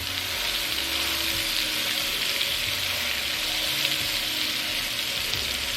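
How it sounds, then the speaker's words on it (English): Pork chops searing in a large frying pan, a steady, dense sizzle and crackle that holds evenly throughout with faint occasional pops and no voices. "sear the pork chops for about 3 to 4 minutes on each side"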